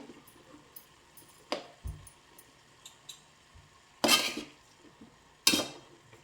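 Jackfruit palya stirred in a pan, with a few short scraping, clattering bursts of spoon against metal spaced apart over a quiet background.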